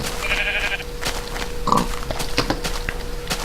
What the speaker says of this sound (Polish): Dużo, dużo tu jest owiec.